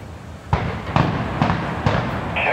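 Fireworks burst over Fenway Park in Boston, four or five sharp booms spaced about half a second apart, fairly close and loud, with a faint hiss near the end.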